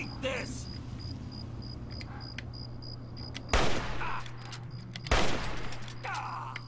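Gunfire in the Fallout 3 video game, two sharp loud shots a couple of seconds apart over a low steady game hum with faint small effects.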